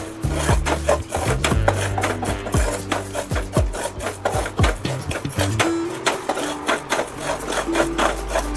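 Cumin seeds and green cardamom stirred continuously while dry roasting in a pan: steady scraping and rustling strokes of a spatula against the pan in a regular rhythm, close and fairly loud, no voices.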